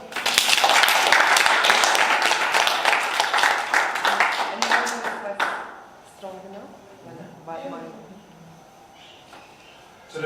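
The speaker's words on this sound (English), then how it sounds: "Okay, round of applause." A classroom of students gives a round of applause for a classmate. Dense clapping runs for about five seconds, then fades into talking voices.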